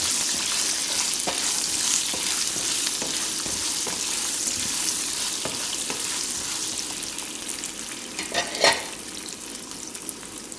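Chopped onion and garlic fry in hot oil in a pan for Tamil vathal kuzhambu, a steady close sizzle with occasional stirring scrapes and a brief louder crackle near the end.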